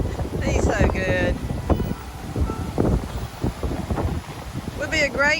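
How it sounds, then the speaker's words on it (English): Strong wind buffeting a microphone aboard a boat, heavy rumbling gusts rising and falling throughout while people talk over it. "Would be a great place to stay if it wasn't so windy."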